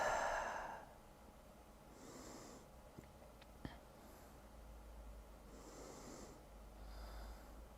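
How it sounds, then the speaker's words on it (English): Loud breathing during a Pilates session: a sharp nasal snort-like inhale, then slow, airy breaths drawn in and pushed out through the throat in an even rhythm, close and quiet, with no talking. "I noticed that my breathing is quite loud today."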